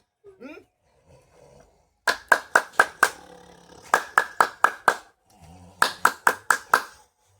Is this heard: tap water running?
no